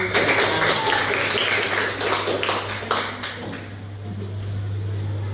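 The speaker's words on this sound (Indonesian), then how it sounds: "Beri tepuk tangan untuk kelompok 1." Classroom applause for a student group about to present, a short burst of scattered clapping from students that fades out after a few seconds, leaving quiet room noise with a steady hum.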